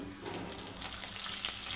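Peanuts, lentils, cumin and curry leaves crackle in hot oil as a South Indian tempering for beaten rice upma, a steady, dense close-up frying sizzle that never lets up.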